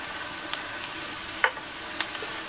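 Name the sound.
stirring onion sautéing in a pan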